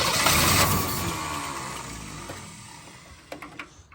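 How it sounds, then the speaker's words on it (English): An old abandoned muscle car, left sitting for decades, cranks over with a loud, steady mechanical churn that slowly fades, ending in a few sharp clanks and knocks near the close; no voices. "Oh my goodness, it's cranking over."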